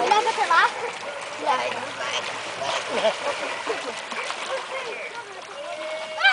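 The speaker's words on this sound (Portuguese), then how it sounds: "Uma baleia assassina atacando uma piscina infantil." Splashing and rushing water in a children's pool, with excited children's voices chattering and squealing throughout, continuous and close.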